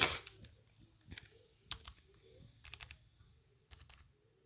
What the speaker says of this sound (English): Now these little number keys and stuff.